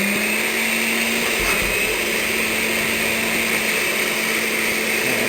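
A kitchen blender whirs as it purees strained green chilies for a pasta sauce, giving a loud, steady, unbroken roar from start to finish with no voices.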